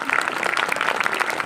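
A church congregation claps in a short, dense burst of applause, fairly loud and continuous with no clear gaps between claps.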